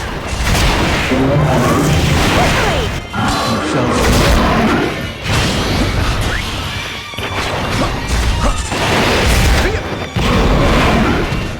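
In a video game, a melee weapon morphs into creepy jaws and bites, producing loud repeated crunching smashes and heavy thuds in a dense, busy mix of combat effects.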